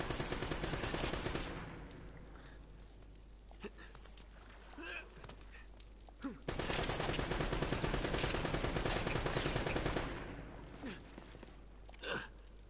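Gunfire in Uncharted: Drake's Fortune sounds as bursts of rapid shots and scattered single cracks over a steady rumbling game background, with sharper isolated reports toward the end.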